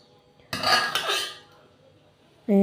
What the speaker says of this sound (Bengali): ডালটা এই যে খুবই ঘন হয়েছে, তো ভাত বেড়ে নিয়েছি, ডাল নিয়ে নিচ্ছি